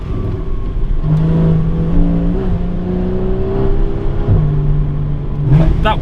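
Porsche Cayman 981 GTS with a 3.4 flat-six engine revs loudly and close, pitch climbing through a smooth rising whine, dipping briefly, then climbing again in a sustained throaty drone.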